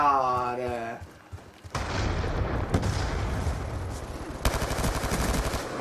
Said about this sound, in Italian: Oh, sta a sparare.